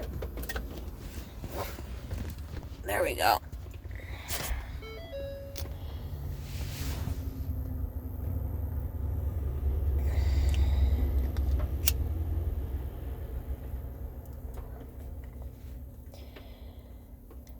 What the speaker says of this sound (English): this fucking car turns off by itself, so let me turn it back on.